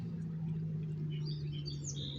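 Birds chirping outdoors on a quiet morning, small high calls scattered over the second half, faint and distant above a steady low hum of traffic.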